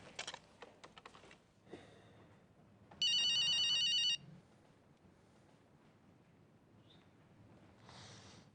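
An electronic telephone ring bursts out loud for about a second amid quiet room noise, with faint clicks and keyboard-like tapping before it and a softer tone later.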